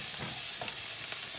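Onions cooking down in a high-quality non-stick pan, a soft steady sizzle with a couple of faint stirring scrapes, brief and without talk.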